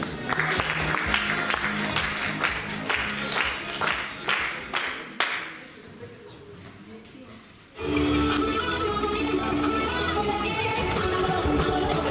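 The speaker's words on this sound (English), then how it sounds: "Your applause." An audience at a camp's closing-day programme claps loudly and steadily, the applause fading out after several seconds before a different loud, sustained sound takes over.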